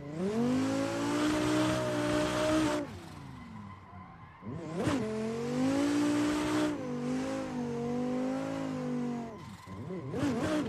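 A Dodge Viper is driven hard down tight mountain roads in a racing simulator, its engine roaring loud and continuous, rising and falling in pitch through gear changes and corners, with brief lifts between bursts and no talk.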